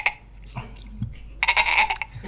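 A man imitates the bleat of a baby goat still nursing, giving a short nasal bleat and then a louder, sustained wavering one, close and alone.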